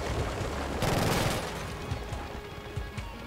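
Gunfire from the shooter game Killzone: Shadowfall, a dense burst of shots peaking loudly near the one-second mark, then trailing into scattered, fainter cracks over a steady background of battle noise.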